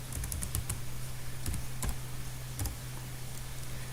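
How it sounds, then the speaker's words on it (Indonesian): Fingers type on a computer keyboard while filling in a table in Microsoft Word: quick, irregular clicks in small bursts, close and quiet against a low steady hum, with no speech. "Di sini aku tekan caps lock pada keyboard untuk memunculkan huruf kapital."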